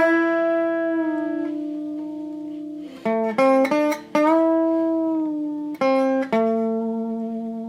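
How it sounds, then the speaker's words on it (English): A clean electric guitar plays a blues lick built on a unison bend across the second and third strings, then a bend-and-release riff, with sustained bent notes and short, rhythmic re-picked phrases. "We'll start with that unison bend with the second and third strings, and we're going to connect that to the bend and release riff."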